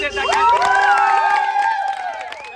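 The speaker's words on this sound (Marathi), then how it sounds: "जोरदार टाळ्या" Village boys celebrating India's World Cup win let out loud overlapping whoops and cheers, close by, in a brief, excited burst.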